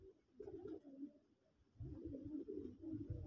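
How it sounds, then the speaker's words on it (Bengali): Red pigeons coo softly inside a loft, with low, throaty burbling calls that overlap and roll on steadily, a little louder in the second half. "দেখেন লাল কবুতরগুলি কিভাবে ডাকাডাকি করতেছে"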